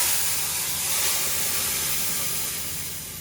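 Ground chutney mixture drops into hot oil in a pan and sizzles with a loud, steady hiss that slowly fades toward the end.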